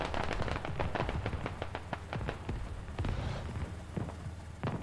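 Gunfire in a military combat game with insurgents attacking around a T-72 tank: rapid, irregular bursts of sharp shots and automatic fire, dense and steady over a rumbling battle background.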